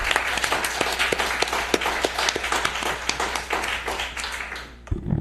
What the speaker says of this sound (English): And applause is appropriate at this point.